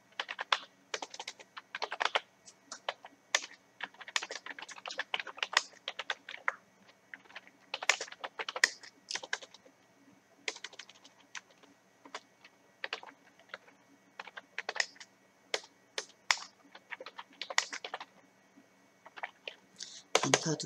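Computer keyboard typing with frequent Enter presses during a beginner computer lesson, a steady run of close, crisp key clicks in uneven bursts with brief pauses throughout.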